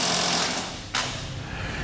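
An impact or power tool drives a bolt down on the frame rail of a 2008 Ford F-250 during a fifth wheel hitch installation, a loud steady buzzing rattle with a brief break near the middle.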